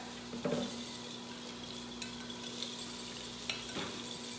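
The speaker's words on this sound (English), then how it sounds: "Whisk 2 eggs." Two eggs whisked in a bowl at home: faint, quick clinks and scraping taps of a whisk against the bowl, steady and close under a low kitchen hum.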